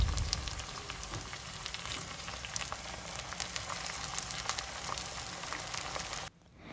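Garlic cloves, golden-brown onions and freshly added spices fry in a pan with a dense, steady sizzle and crackle close by, cutting off abruptly near the end; no one speaks.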